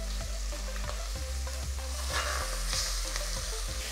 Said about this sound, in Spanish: Vamos a comenzar primero sellando nuestro pollo.